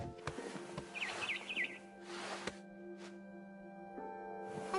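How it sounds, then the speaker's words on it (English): A barn swallow returning to her nest at night in the game What Remains of Edith Finch, giving a quick series of high, bright chirps over a quiet ambient hum, followed by a few fainter scattered calls. "It was a barn swallow going back to her nest."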